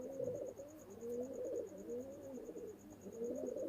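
Paired, settled pigeons coo in low, continuous rolling calls, close and fairly quiet, with a faint steady high tone in the background and no talking.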